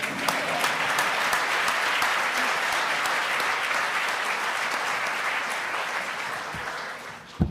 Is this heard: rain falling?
no